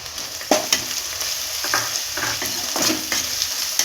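Onion paste with ginger and garlic paste sizzles steadily in a hot pan for a Bengali chicken curry, with intermittent scraping stirs and a few sharp spatula knocks over the continuous frying hiss.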